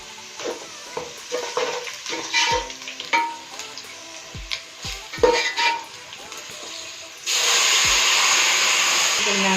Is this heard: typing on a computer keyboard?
no